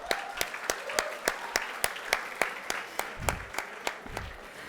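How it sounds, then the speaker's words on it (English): Rhythmic clapping in a steady beat, sharp and fairly close, like an audience applauding in unison at a conference valedictory ceremony. "A huge round of applause, please."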